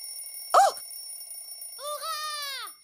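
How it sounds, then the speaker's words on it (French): An alarm clock rings in a kitchen in a cartoon scene: a sharp burst of ringing, then a sustained, tonal electronic alarm tone that holds for under a second before stopping; no talking. "ton réveil dans la cuisine"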